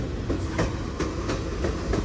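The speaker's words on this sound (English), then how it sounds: "I've never seen a CSX locomotive that close before" A CSX locomotive and its train roll past close by, with a steady rumble and rhythmic clickety-clack of wheels over rail joints repeating about every third of a second, loud and continuous.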